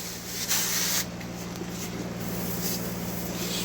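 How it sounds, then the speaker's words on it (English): A hand spray bottle mists an aspirin solution over ailing garden plants: close, quick hissing squirts, with one stronger burst near the start and softer spraying after. "You just want to spray it over everything."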